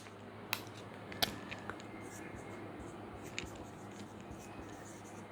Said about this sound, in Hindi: एक नाम मैं और लिखती हूँ यहाँ पे